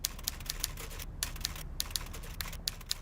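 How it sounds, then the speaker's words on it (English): Typewriter keys struck in quick irregular bursts with brief pauses, carriage-like clacks, heard alone from a neighbouring room during the Suez crisis talks. "we heard a typewriter being used in a neighbouring room"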